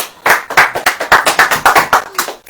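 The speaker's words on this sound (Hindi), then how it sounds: "तड़ से आप लीजिए, ताली बजाइए।" An audience at a church sermon claps in unison, about a dozen loud, close, evenly spaced claps in a steady rhythm.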